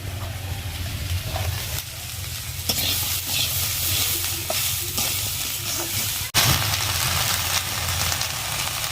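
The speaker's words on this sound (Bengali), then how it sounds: "তো পেঁয়াজ রসুন তো ভেজে ফেলছি" Onion and garlic fry in a pan with a steady, close sizzle, while a spatula stirs and scrapes now and then, with one sharp knock near the end.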